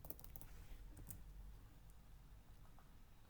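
Keystrokes tapping on a computer keyboard while a search term is entered, a quick cluster of clicks at the start and around the one-second mark, then scattered soft taps, faint and close against a low room hum.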